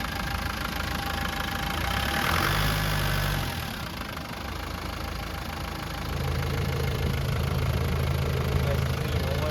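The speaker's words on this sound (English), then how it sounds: "And the engine purrs like a sewing machine." The 200Tdi diesel engine of a 1991 Land Rover Defender 130 idles with a steady, knocking clatter and low rumble, heard close and continuous, the pitch dipping briefly midway.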